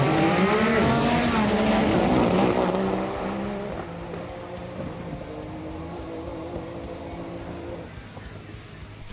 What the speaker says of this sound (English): the GTR Unlimited class gave us some good racing in the finals, with Giddy in the ETS car up against Mac